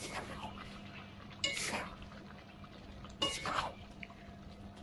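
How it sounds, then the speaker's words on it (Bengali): A spoon stirs chicken coriander curry seasoned with cumin powder in a pot, giving two louder scraping bursts over a quiet, wet background murmur. "ভালোভাবে নেড়ে চেড়ে মিশিয়ে দিচ্ছি।"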